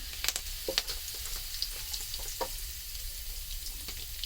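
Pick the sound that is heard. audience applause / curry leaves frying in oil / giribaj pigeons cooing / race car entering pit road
curry leaves frying in oil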